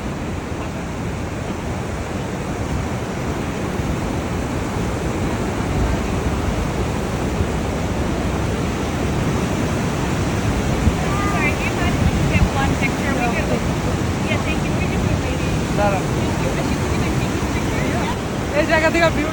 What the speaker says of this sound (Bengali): এখন আমরা উপর থেকে ওয়াটারফলটা দেখতেছি